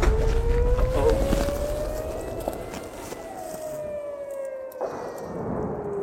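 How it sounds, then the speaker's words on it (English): Air raid sirens wail in rising and falling tones over Israeli communities, with distant rumbling booms of rocket fire, steady and moderately loud outdoors. "As you can see, the sirens are now being heard in the Israeli communities."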